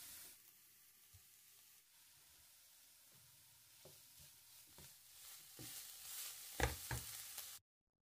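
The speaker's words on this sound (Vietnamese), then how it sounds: "Sau đó cho tiếp 40g tỏi băm vào xào thơm." Minced garlic with sliced shallots and lemongrass sizzles quietly in hot oil in a frying pan, a soft steady crackle punctuated by stirring clatters that grow louder toward the end.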